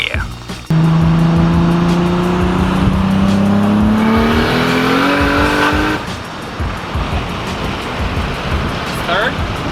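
An 800-horsepower big-turbo Toyota Supra MK4 launches hard on the street, its engine climbing through a loud sustained pull with tires spinning, then a gear change and a rough roaring tail; voices speak over parts of it.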